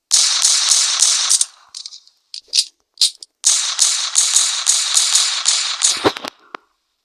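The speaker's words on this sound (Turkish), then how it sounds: "o da bana sıkıyor, o da bana sıkıyor, sıkıyor, sıkıyor, sıkıyor" Bursts of rapid gunfire crackle loudly in long rattling strings, pause for a few scattered single shots, then resume in another sustained volley before ending with a few sharp reports.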